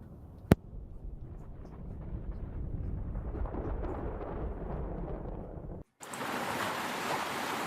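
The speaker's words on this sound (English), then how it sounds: "Until you just hear the waves of the ocean again." Ocean waves surging in a broad, steady wash that swells over several seconds, with one sharp click near the start and a brief dropout before the surf returns brighter and fuller.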